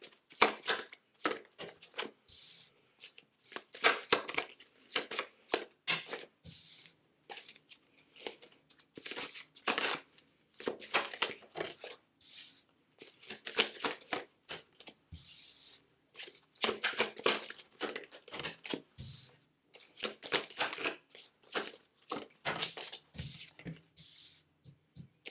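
Tarot cards being shuffled and pulled: repeated brisk papery riffles and slaps in irregular bursts, close and fairly loud, with no voices.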